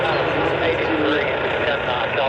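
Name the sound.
Lockheed T-33 Shooting Star jet flying past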